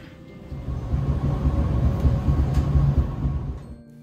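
The Montserrat rack railway train between Monistrol and the monastery rumbles along rails with a low, steady mechanical drone and clacking texture, swelling in the middle and easing toward the end, no voices.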